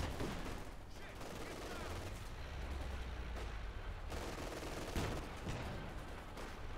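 Gunfire in a Company of Heroes 2 match: scattered rifle and machine-gun shots with occasional louder bangs, heard at a distance over a constant battle din, with no voices.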